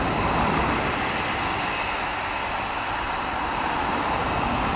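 A C-130 Hercules flies overhead, its engines giving a continuous, fairly distant rumbling roar that holds steady the whole time.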